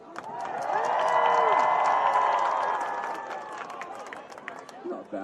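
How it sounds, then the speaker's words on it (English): A crowd at the opening ceremonies of an ultimate frisbee championship cheers on cue, a loud swell of whoops, screams and clapping that peaks within a couple of seconds and then fades out. "I just want to hear you guys cheer a little bit"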